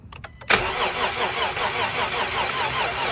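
A 2012 Jeep Grand Cherokee 3.6L with a blown head gasket and a weak battery starts up after a few short clicks, then runs with a loud, fast, rhythmic churn close by, no voices over it.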